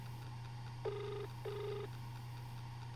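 A phone rings twice in the horror video game Only Faces Remain, two short electronic rings over a steady low hum.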